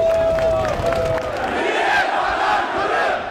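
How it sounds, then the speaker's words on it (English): An emotional crowd gathered in front of the Crimean parliament, many voices shouting and chanting together in a loud, dense roar that holds steady throughout. "emotional crowds gathered in front of the parliament"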